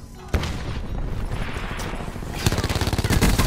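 Assault rifle fire in Call of Duty Black Ops 4, a sustained burst of rapid shots at a bot target, with a sharper run of distinct cracks toward the end over game ambience.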